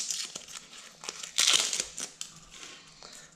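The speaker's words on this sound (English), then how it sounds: "So I'm just going to cut this onion like so and peel the skin off" Onion skin being peeled off by hand in a kitchen, a close, dry crinkling and crackling in short bursts, with a louder rustle in the middle and no talk.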